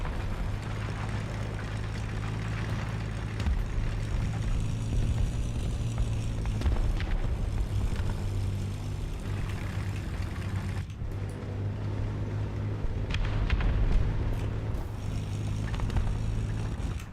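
A Comet tank's engine in War Thunder drives on with a loud, continuous low rumble and drone, broken by occasional mechanical clanks and creaks, with no talking.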